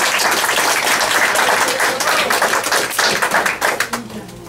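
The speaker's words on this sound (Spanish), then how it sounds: "Denle un aplauso al Señor." A church congregation claps loudly and continuously in a dense burst of applause that thins slightly at the end.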